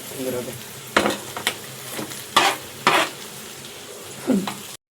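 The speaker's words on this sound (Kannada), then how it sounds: "tomato fry ಆಗಬೇಕಲ್ಲ" Tomatoes frying in a pan for a home-cooked mutton curry, with a steady sizzle broken by several sharp stirring scrapes spaced about a second apart, close and fairly loud.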